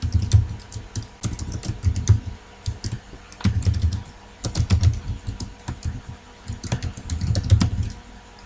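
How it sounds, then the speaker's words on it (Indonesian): Code being typed on a computer keyboard, heard as bursts of quick, crisp key clicks separated by short pauses, close and alone with no talking. "Oke, kelas saya ketikkan dulu kodenya"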